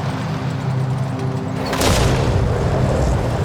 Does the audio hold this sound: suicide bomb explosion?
yes